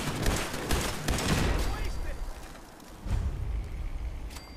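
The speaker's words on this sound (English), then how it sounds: "What the heck is shooting at me?" Gunfire rakes at the player in Fallout 4, a dense burst of rapid shots with a second volley after a pause. The shots are loud and crackling and are heard alone, with no one talking.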